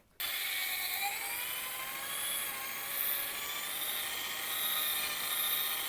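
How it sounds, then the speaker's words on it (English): A sanding disc on a drill wet-sands a cloudy headlight lens, giving a continuous high whirring grind that starts abruptly and holds steady, moderately quiet with no talking. "move the sanding disc continuously over the lens in a nice even pattern"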